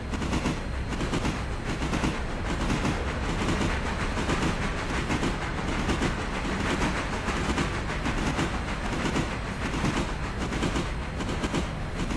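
Train running on rails in the video game Railroader, a steady loud rumble with continuous rhythmic clickety-clack of wheels over rail joints throughout.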